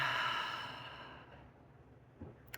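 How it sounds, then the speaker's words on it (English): A deep, long exhalation, close and soft, fading out over a couple of seconds during a quiet, guided breathing moment, with a faint tap near the end. "Let's just take a couple of deep breaths together."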